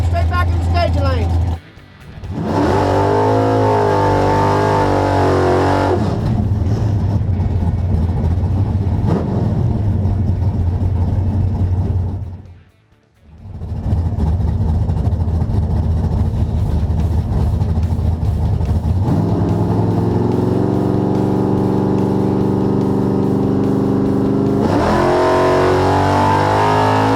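Loud engine roar from drag racing cars, including a dragster, launching down the strip, sustained and throbbing with a brief drop near the middle before another car revs hard, heavy and close throughout, with speech over it.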